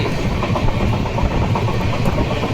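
Steady, loud rumble of a moving train with a continuous low roar and faint rhythmic clatter of wheels on track, no voices.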